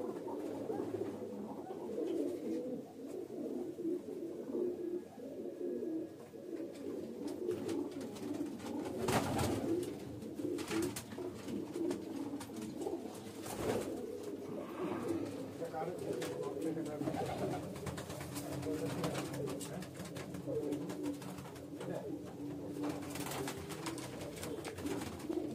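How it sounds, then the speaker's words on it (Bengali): Female pigeons coo steadily in a breeding loft, a dense chorus of soft overlapping calls filling the space, with a person's voice talking intermittently over them. "এখানে যা রয়েছে সবই মাদি পায়রা রয়েছে"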